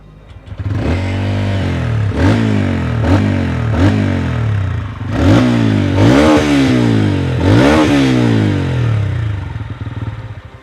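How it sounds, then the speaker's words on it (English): A single-cylinder motorcycle engine idles in neutral up close and is revved in repeated sharp bursts, each climbing quickly before dropping back to a thumping idle. "I feel like this definitely sounds like a more traditional single-cylinder bike"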